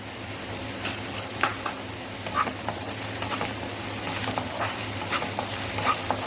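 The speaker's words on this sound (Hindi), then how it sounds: "अच्छे से मिक्स कर लेंगे।" Paneer being stirred and mixed with black pepper powder, cumin powder and salt, soft continuous scraping and light sizzling patter, faint and close, no talking.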